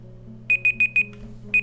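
Electronic alarm beeps from the video game Dwarf Fortress: four quick, evenly spaced high tones, a short pause, then a fifth, over a low steady hum with no talking.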